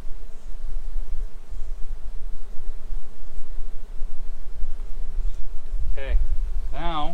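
A dense colony of honeybees fans their wings to spread the queen's pheromone, a continuous close buzzing drone, with a voice breaking in near the end.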